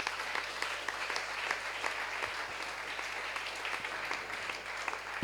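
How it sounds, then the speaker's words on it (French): A church congregation claps steadily in a dense, continuous wash of applause that fills the room without pause, with no speech on top. "Acclame le Seigneur Jésus."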